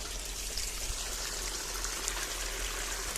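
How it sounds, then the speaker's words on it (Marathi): Water gushes continuously from the outlet of a GK solar-powered farm pump, a steady, fairly close rushing splash with no talk over it. "कशा प्रकारे जी के पंप पाने मारत आहे"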